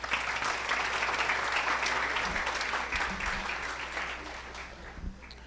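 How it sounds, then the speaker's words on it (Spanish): Conference audience at an agricultural talk on crop water needs clapping for an introduced speaker: a thick, even wash of applause that slowly thins toward the end. "Aplausos, por favor."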